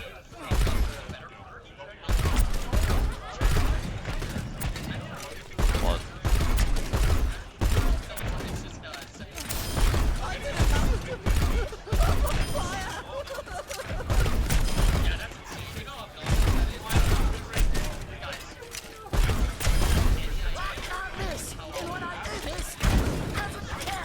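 Frag Cannon weapon firing in Overwatch 2, a run of loud, sharp bursts and explosive blasts in quick, uneven succession across a long stretch of combat noise.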